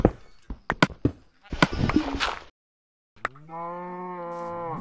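Thumps and crackles from a burning Minecraft cow are followed by a short gap and then a long, steady, tonal moo that holds to the end.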